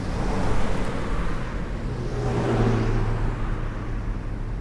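Cars rush along a road in the Kunding area, giving a steady broadband roar of traffic that swells slightly as vehicles pass, loud and continuous with no voices.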